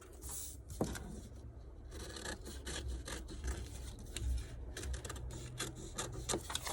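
Scissors cutting through a paper or fabric dress pattern at a work table, producing a steady run of soft rasping and snipping sounds with small scrapes, close up and fairly quiet, with no voices.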